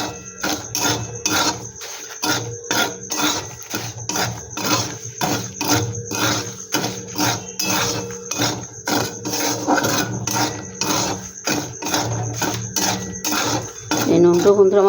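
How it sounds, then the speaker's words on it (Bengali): Black salt roasting in a pan for chaat masala gives a steady run of sharp metallic scrapes and clinks, loud and close, with a denser clatter near the end. "আমি দিয়ে দিচ্ছি 2 চামচের মতন বিট নুন। এটাকে একটু আমি ভেজে নেব।"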